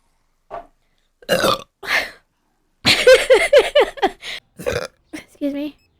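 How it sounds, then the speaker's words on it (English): A woman lets out several short burps among bursts of speech and apologies, the burps weak and fairly close. "That was not a good burp."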